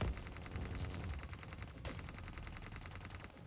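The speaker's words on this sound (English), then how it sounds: "This has got like a weird plasma bullet." Rapid plasma bullet gunfire in Call of Duty: Black Ops 3 rattles in a dense, steady stream of shots, quiet overall with a brief sharper burst partway through.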